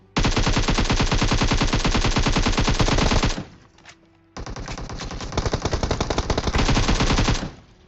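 Rapid automatic gunfire from a fight in the video game PUBG Mobile comes as a dense, loud string of shots that pauses briefly before another sustained burst of firing.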